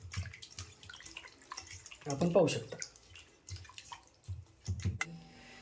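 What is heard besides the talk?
washing raw chicken with clean water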